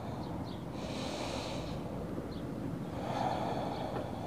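Steady, deep breaths drawn through the nose during a yoga twist, a soft continuous airy rush close to the microphone with no talking.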